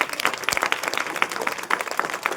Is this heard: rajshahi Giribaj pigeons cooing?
no